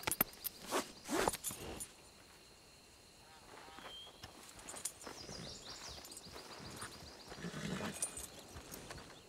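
Horse hooves in the Red Dead RedM roleplay game make a few soft, sparse clip-clops under quiet background noise.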